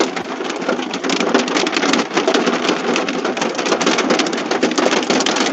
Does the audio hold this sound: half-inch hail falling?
yes